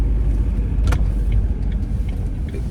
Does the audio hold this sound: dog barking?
no